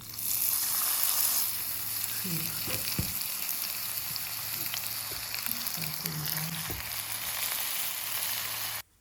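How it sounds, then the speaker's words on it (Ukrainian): Minced meat canapés fry in an oiled, heated pan with a steady close sizzle and crackle, plus a few faint clinks and stirring sounds, with no talking. "А тепер залишилось розігріту сковорідку викласти канапки."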